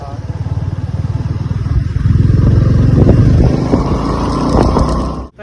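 Suzuki V-Strom 250SX motorcycle on a long road trip, its engine droning steadily throughout with a rising, fuller roar partway through as the bike accelerates, mixed with wind rush and road noise.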